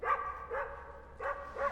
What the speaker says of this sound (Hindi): सर आपने कोई नया कुत्ता पाला है? Is it a Pomeranian? Bulldog है।